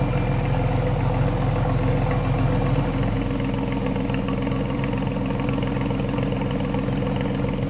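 A cheap flood-salvage Porsche that had been overheating idles with a steady, low, throbbing engine note and a faint mechanical whir. The sound is close and continuous, with no talk.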